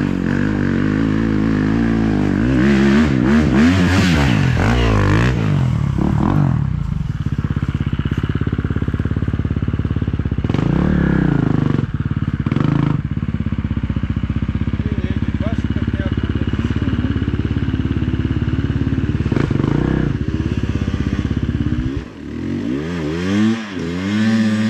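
A motorcycle descends through the Balkan mountains at night from Buzludzha toward Tryavna, its engine revving and dropping again and again with a clattering note, close by, while people talk over it.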